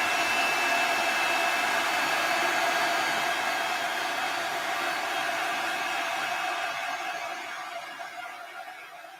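Loud, steady blowing of a heat tool drying a journal page, a continuous close rush of air that slowly fades toward the end.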